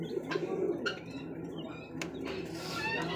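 Pigeons, including a running breeding pair offered for sale, coo softly with low burbling calls close by, accompanied by scattered wing flutters and small clicks against a busy background.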